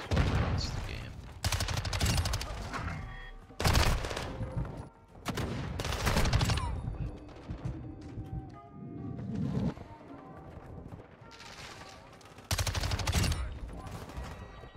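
Bursts of MX9 submachine-gun fire from an online shooter match, several rapid volleys separated by short pauses, loud and close, with some talk underneath.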